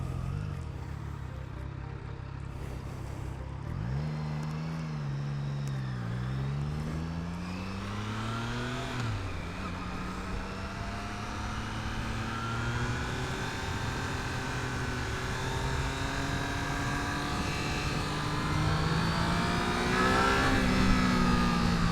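A Triumph Trident 660 motorcycle engine revs up past 6000 rpm, its pitch climbing, dipping and climbing again before holding a steady, loud drone that rises further toward the end, with no talking.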